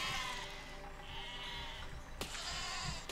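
Sheep bleat in the video game Besiege, a few wavering calls over steady game noise, with a sharp crack partway through.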